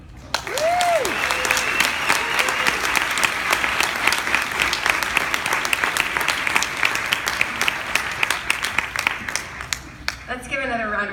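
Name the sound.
audience applause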